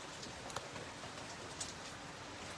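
Heavy rain pours down outside, a steady, faint hiss of falling water that holds evenly throughout, with a couple of soft drip taps.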